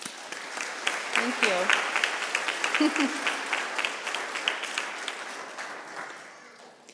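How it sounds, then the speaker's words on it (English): Audience applause at a youth arts festival opening ceremony, steady dense clapping filling the room for several seconds, fading toward the end, with a voice briefly speaking over it. "We should give him a round of applause."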